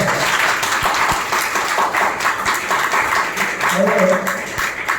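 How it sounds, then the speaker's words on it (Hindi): Seminar audience clapping enthusiastically, a dense continuous round of applause lasting about five seconds with a few sharper hand claps and a voice briefly audible underneath. "मजा आएगी तो जोरदार तालियां पाड़ो।"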